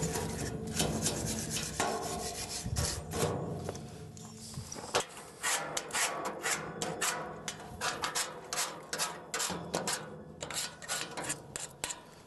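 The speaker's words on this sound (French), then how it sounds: "un petit coup de brosse derrière." A brush scrubs a rusty metal gate during restoration, giving quick, uneven rasping strokes close by that keep coming for about twelve seconds with brief gaps.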